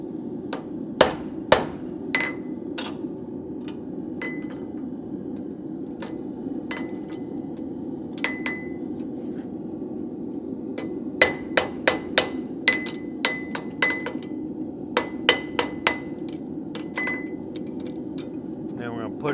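Hot metal is hammered on an anvil with sharp, ringing strikes in uneven bursts, some spaced out and some in quick clusters, over a low background hum.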